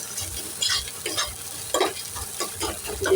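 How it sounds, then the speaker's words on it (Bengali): Egg and onion fry in a pan at home with a constant close hiss, broken by spatula scrapes and stirs that repeat every second or so. "এদিকে আমার ডিম আর পেঁয়াজটা ভালো মতো ভাজা হয়ে গেছে।"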